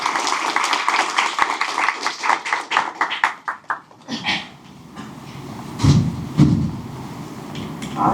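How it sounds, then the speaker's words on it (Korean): A crowd at a tech meetup gives a speaker named Illia a burst of dense, steady applause for about four seconds, then it thins into scattered claps and room noise. "네, 일리아를 박수로 맞아주세요"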